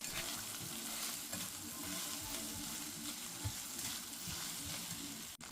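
Rice fries in tempering oil with garlic, chilli and turmeric, sizzling and crackling steadily in a pan, with occasional stirring scrapes, close and continuous, no talking.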